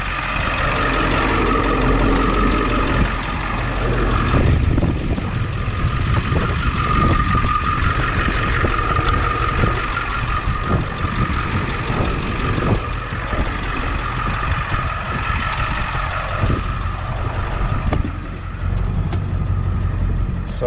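A big pickup truck's engine runs loud and steady throughout, a continuous close rumble with a faint repeating beep layered over it; no speech.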